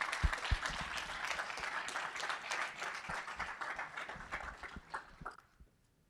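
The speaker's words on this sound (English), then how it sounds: "I really would like to have a round of applause to, again, celebrate entrepreneurship at Penn State." Audience applause at a pitch competition, a dense steady clapping crowd lasting several seconds before fading out at the end, with no talking over it.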